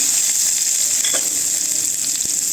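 Tempering for mango dal: hot oil sizzles loudly and steadily with a bright hiss, and a few brief clinks and stirring scrapes sound close by, with no voices.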